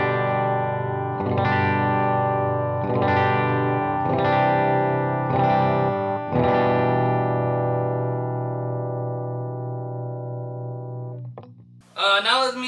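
Clean electric guitar played through a Weber Alnico Silver Bell speaker, five ringing chords struck about every second and a half, the last left to sustain and fade before a brief noisy burst at the end.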